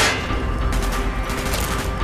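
Dense gunfire from a Call of Duty: Black Ops firefight rattles on steadily for two seconds, a loud continuous burst of overlapping shots with no voices heard.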